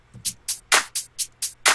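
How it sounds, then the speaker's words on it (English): A crisp electronic shaker ticks in a steady pattern, seven bright hissy hits with alternating louder and softer accents, dry and alone. "I'm gonna add a little shaker, like every 2,"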